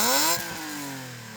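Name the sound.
BMW M3 E36 engine revving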